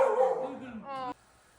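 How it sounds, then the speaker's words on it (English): Small puppies yip and bark in short bursts close by, loudest at the start, with a final higher yelp cutting off abruptly. "Look at these puppies."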